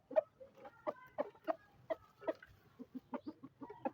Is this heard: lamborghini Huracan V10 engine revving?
no